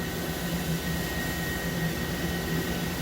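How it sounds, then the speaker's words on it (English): A Mori Seiki MV40M vertical machining center spindle turning at 2,000 RPM produces a steady, even broadband whir and hiss, constant in level throughout with no distinct tones or voices. "You can barely hear this spindle."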